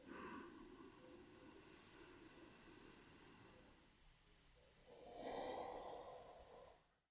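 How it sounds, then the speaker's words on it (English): Slow, deep breaths drawn into the belly during a guided relaxation exercise, heard close and quiet: a soft inhale, a pause, then a longer, louder exhale with no talking. "So 2 more big breaths into the belly."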